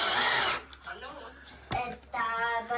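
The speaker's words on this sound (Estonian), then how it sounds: "Ja kui läheb liiga raskeks, siis võta endale trell ja tee trelliga." An electric drill drives screws into a door at home, a short high whirring burst at the start, then quieter handling and a second brief whine of the motor near the end, with people talking.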